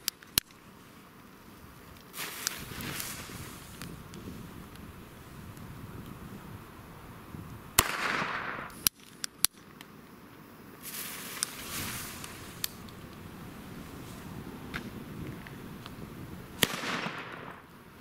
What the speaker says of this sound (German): Harzer Knaller von Nico kommt jetzt.